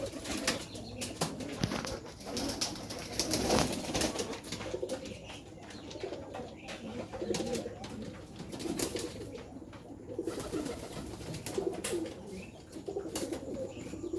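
Pigeons coo nearby in soft, low, repeated calls, with occasional wing flaps and rustling around them; the birds include a Teddy pigeon and a Dhakaiya pigeon.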